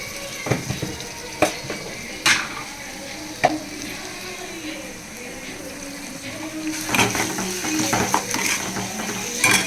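Tomatoes sautéing in a pan with a little salt while cooking crab fry: a steady soft sizzle with occasional sharp clinks and scrapes of a spoon against the pan, busier near the end.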